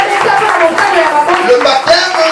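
A church congregation applauding during a French-language sermon, a dense, continuous clatter of many hands with shouted voices mixed in, steady and fairly loud throughout.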